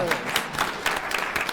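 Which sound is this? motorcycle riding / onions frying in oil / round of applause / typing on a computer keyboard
round of applause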